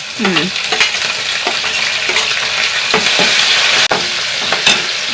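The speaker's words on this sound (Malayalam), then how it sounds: "കറിവേപ്പില ചെറിയ കഷ്ണം ഇഞ്ചി രണ്ട് മൂന്ന് പച്ചമുളക് രണ്ട് സവാള ഇട്ടുള്ള കട ഇഞ്ചി" Curry leaves, ginger, green chilli and onion fry loudly in a pan, with a bright continuous sizzle and repeated spoon scrapes and stirring knocks close up throughout.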